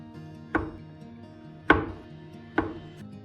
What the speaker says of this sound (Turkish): Şimdi margarin yağımızı ince ince kesiyoruz.